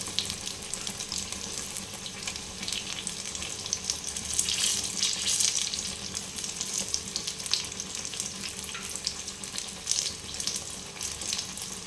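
Pumpkin fritters coated in gram-flour batter fry in hot oil, a steady bubbling sizzle with crackling bursts, moderately loud and uninterrupted, no voices.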